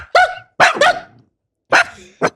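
A dog barks loudly and close by, giving three quick barks, then a pause and two more, with brief silence between them.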